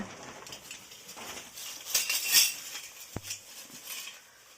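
Metal spoons clink together softly, a few light, scattered jingles and taps close by, faint and brief.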